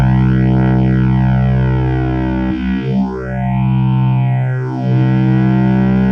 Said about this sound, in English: And you've got phaser